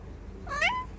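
A single short cat meow, close and fairly clear, over a quiet low background hum.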